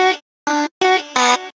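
Dry high-pitched vocal chop for a liquid drum and bass track, four short clipped syllables separated by brief silences, close and clear with no effects applied.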